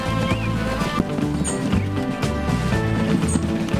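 Horses clip-clopping in the transport video game Transport Fever 2, a steady stream of hoofbeats with occasional neighs, mixed under dense game music and ambient effects.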